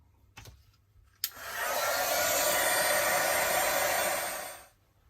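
A hair dryer blows close and steady for roughly three seconds to dry paint on an art journal page. A click starts it, and the whoosh fades as it switches off.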